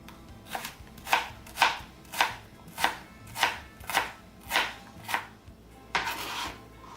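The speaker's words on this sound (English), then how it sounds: "This is a sweet onion, so just a half of a sweet onion, and just chop it up." Half a sweet onion being chopped with a knife on a board, about ten crisp evenly spaced cuts in a steady rhythm, close and clear with no talking.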